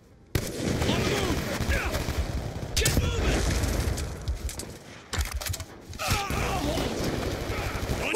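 Dense bursts of automatic gunfire rattle almost continuously in Black Ops 2, broken by a few short pauses, loud and close, with someone speaking over the shooting.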